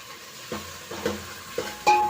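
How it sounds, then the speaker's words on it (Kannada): Onion and tomato frying in oil over a high flame while making sambar: a steady, moderate sizzle broken by a few sharp stirring scrapes and clinks, with no one talking. "ಈಗ ಟೊಮೆಟೊ ಕೂಡ ಇದಕ್ಕೆ ಹಾಕೋಬಿಟ್ಟು ನಾನು ಫ್ರೈ ಮಾಡ್ಕೊಳ್ತೀನಿ"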